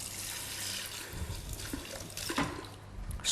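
Water is poured into a cooking pot for a potato and mushroom soup, a steady splashing stream running for a few seconds, close and moderately loud.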